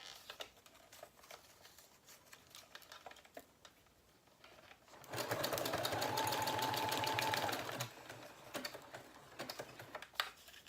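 A sewing machine zigzag-stitches junk journal pages, its fast mechanical whirr running steadily for about three seconds mid-clip between quieter handling taps and rustles.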